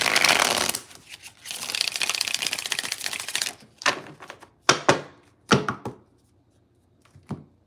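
Tarot cards being shuffled, a dense riffling burst up front followed by several sharp separate slaps and taps of cards, close and loud, then quiet.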